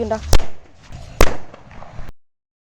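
Two loud, sharp palm-leaf firecracker bursts about a second apart, with crackling noise trailing after each.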